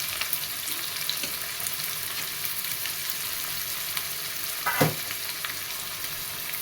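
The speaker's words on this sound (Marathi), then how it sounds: "कांदा टाकून दिला बघा कांदा चांगला परतून घेऊन" Onion sizzles steadily in hot oil already fragrant with cumin and bay leaf, a soft continuous frying hiss with one brief louder clatter of stirring near the end.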